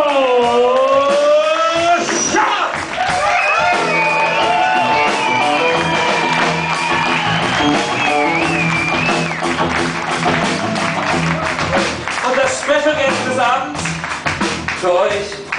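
A rock concert audience at the Jubez in Karlsruhe applauds and cheers loudly, with dense clapping and high shrill whistles throughout, and a voice over the PA.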